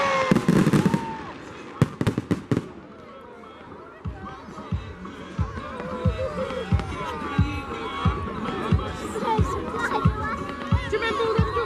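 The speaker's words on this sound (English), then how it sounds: "One firework goes off." A Bonfire Night firework bursts with a few loud bangs and crackles early on, followed by a lively outdoor crowd scene with people talking and footsteps or rhythmic thumps continuing underneath.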